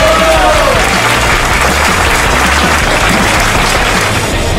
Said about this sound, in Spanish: También fuerte el aplauso